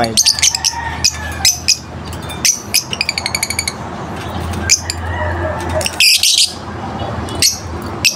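Pet birds in a backyard aviary chirp and squawk in bursts of sharp, repeated calls at feeding time, fairly close, with rapid trills and a steady low hum behind them.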